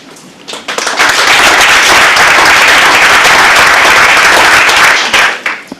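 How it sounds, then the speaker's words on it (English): An audience breaks into loud, sustained applause that swells within the first second, holds as a dense wall of clapping for about four seconds, then tapers off near the end. "These people definitely deserve a round of applause."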